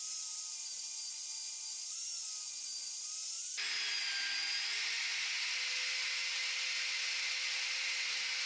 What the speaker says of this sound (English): then I start to polish to take out all the scratches